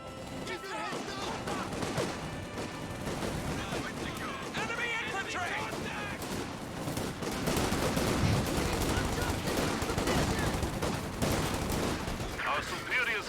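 Dense, continuous machine gun and rifle fire from a firefight in a Company of Heroes 2 2v2 battle, rattling steadily with scattered impacts and louder toward the end, mixed under game voices and battle noise.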